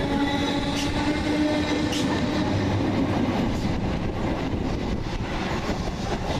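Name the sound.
Southeastern Class 455 train 455834 at East Croydon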